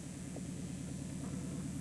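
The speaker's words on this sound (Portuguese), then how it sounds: "Tá chegando o avião aí." An airplane approaching to land at the Juína airstrip in Mato Grosso, heard as a steady, faint, distant engine drone that holds evenly throughout with no talking.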